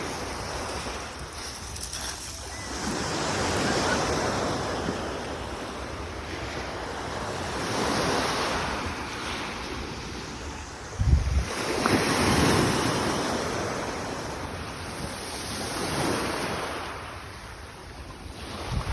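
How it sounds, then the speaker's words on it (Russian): Waves on a slightly choppy sea wash onto a beach near a pier in Adler, Sochi. The surf swells and recedes in slow rhythmic surges under steady wind buffeting the microphone, with one sharper thump near the middle. "Море слегка волнуется."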